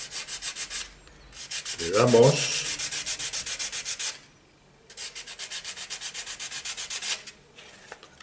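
Fine sandpaper rubbed back and forth over wood in quick, even strokes, close and crisp, in two bursts separated by a short pause, with a brief spoken word over the first burst.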